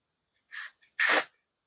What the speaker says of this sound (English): I think I'm just going to spray it in the air.